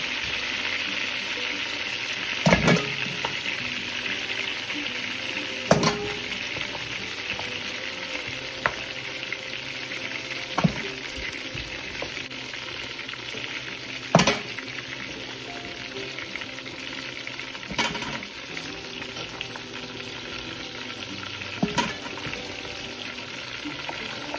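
Chicken pieces frying in hot oil for a home-cooked chicken roast, a steady close sizzle with occasional sharp stirring clacks and pops, no talk.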